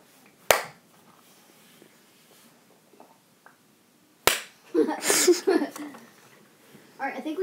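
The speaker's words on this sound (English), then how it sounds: "You deserve one of the slowest claps of all time." Two sharp, isolated hand claps spaced several seconds apart, close and loud, a mock slow clap between gaming friends, followed by a burst of lively talk.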